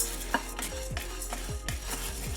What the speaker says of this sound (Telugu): నేనైతే డ్రై రోస్టే చేస్తున్నాను